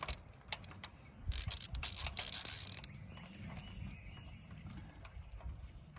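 A ratchet wrench with a socket clicks rapidly while tightening parts on a 2014 Chevy Cruze LT with a 1.4L engine, with close bursts of ratcheting in the first three seconds, then quiet.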